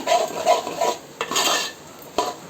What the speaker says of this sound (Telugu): కారం కూడా నూనెలో ఒక ఐదు నిమిషాలు వేయించుకోవాలండి